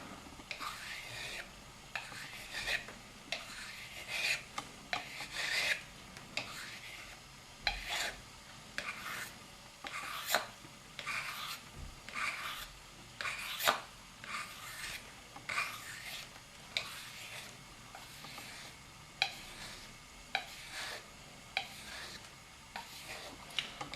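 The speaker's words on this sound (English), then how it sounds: "Take nice long strokes" Long, even rasping strokes of a sharpener drawn along the blade of a spoon knife, repeating steadily in a close, dry scraping rhythm with no talk.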